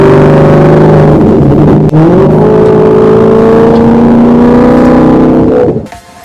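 Maserati GranTurismo engine revving hard and loud, holding a high pitch as it climbs, with a brief dip near the middle before the note fades out at the end.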